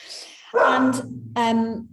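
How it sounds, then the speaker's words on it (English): A dog barks indoors, two loud, close barks about a second apart, with a person speaking just before and between them. "Excuse my dog."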